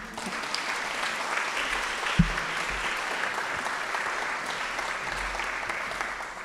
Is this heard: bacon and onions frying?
no